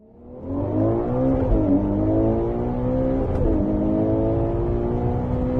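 A Ferrari SUV's V12 engine starts up and holds a strong, smooth, close drone, with a slight rise in revs partway through and no talking.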